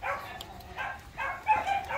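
A Rottweiler puppy gives several short, faint yipping barks in an uneven rhythm, heard from a little distance against a quiet background.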